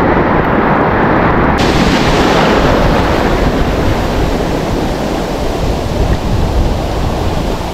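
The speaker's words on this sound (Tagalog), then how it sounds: "Bigla na lang nabuko ng mga alon dito." Sea waves break and wash loudly along a shore where people are fishing for giant trevallies, a steady roaring surf close to the microphone that fills the whole stretch, with no voices.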